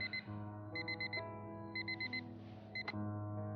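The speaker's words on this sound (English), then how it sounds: "The same alarm tone that Harry can sleep through." Alarm clock tone in the Fragments of Him video game, repeated groups of short high beeps sounding clear and close over a sustained low musical drone, with no voices.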